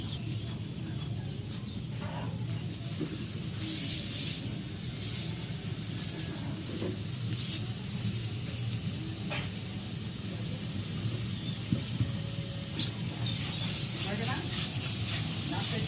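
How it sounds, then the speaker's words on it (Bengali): Onions hiss and sizzle in a pan for a mrigal fish curry as they are stirred, giving a steady frying hiss with occasional scraping spikes; a voice talks over it. "আমরা এবার এটাকে ভালো করে নেড়ে নেড়ে কষে নিব।"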